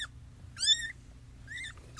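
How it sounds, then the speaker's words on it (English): Several thin, high-pitched meows from newborn kittens only hours old come in short bursts, close and quiet, separated by brief pauses over a faint low hum. "Mom wants them to stop meowing."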